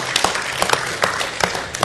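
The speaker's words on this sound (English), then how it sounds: "Will you clap to the Lord and just lift a shout of praise?" Church congregation clapping in praise to the Lord, a steady burst of many hands close by, with uneven rhythm and no talk.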